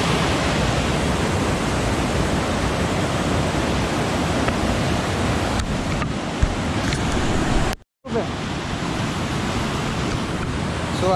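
Streams of water pouring into a natural rock pool near Lonavla, a loud, unbroken broadband rush of flowing water, steady throughout with a brief dropout near the end.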